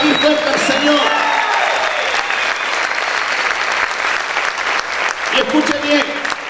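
Loud congregational applause in a church service, a sustained, dense roar of clapping with voices calling out over it near the start and again toward the end.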